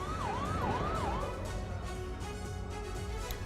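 A wailing ambulance siren sweeps up and down several times, loud and near, over the steady drone of slow-moving vehicles stuck in a traffic jam on a highway.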